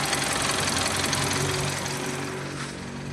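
An Isuzu 4JJ1 diesel engine with oil dilution trouble runs after starting, a steady close rattling knock at idle that eases slightly toward the end.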